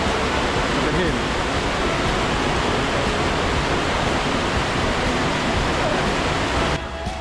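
Bridalveil Fall in Yosemite National Park pours down as a steady, dense roar of falling water that stays loud and unbroken, then dips slightly just before the end.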